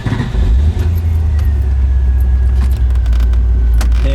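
An MG RV8's Rover V8 engine, running a remapped and upgraded ignition system, catches early and settles into a loud, deep, steady rumble close by.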